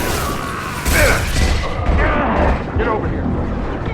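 Gunfire in the video game Mass Effect 2, loud bursts and booming impacts during a battle on Omega, dense and continuous, with voices shouting over the noise.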